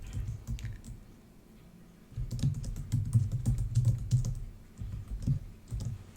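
Number keys are tapped on a computer keyboard in a run of quick, close clicks. A quieter stretch gives way to a denser burst of keystrokes.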